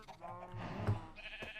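A single sheep bleat in a blocky building game, short and wavering, fairly close but not loud, heard on its own with no talking.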